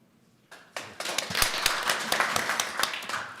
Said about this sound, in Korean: 박수 받으려고 한 건 아닌데도 박수를 쳐주셔서 감사드립니다.